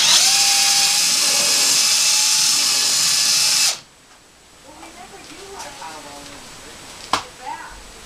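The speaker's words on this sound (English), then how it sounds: "now I'm drilling out my second hole" A power drill whines loudly and steadily for a few seconds, then stops abruptly, leaving quiet room noise with a few faint knocks.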